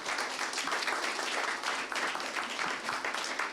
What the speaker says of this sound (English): please give everyone who's made this event happen a very big round of applause